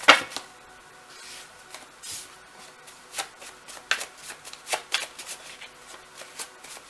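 Tarot cards riffle and slap down in a string of crisp, close shuffling bursts, with irregular snaps and swishes spread across the stretch and no talking.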